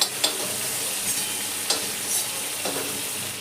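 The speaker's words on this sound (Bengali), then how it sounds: "কয়েক সেকেন্ডের জন্য তেলের মধ্যে দিয়ে এইভাবে নেড়ে আমি তুলে নিচ্ছি মাছটাকে" Prawns sizzle steadily in hot oil in a pan while being stirred, with a few sharp scrape-and-clatter stir strokes standing out above the constant close frying hiss.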